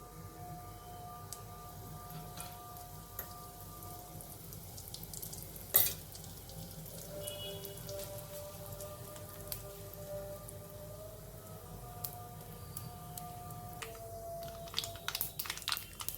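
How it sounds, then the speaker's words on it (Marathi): Faint crackling and sizzling of cumin, mustard seeds, asafoetida and turmeric tempering in hot oil, with scattered pops and a brief louder clatter partway through, no voices. "जिरं मोहरी आणि हिंग आणि हळद अशी छान खमंग फोडणी करायची"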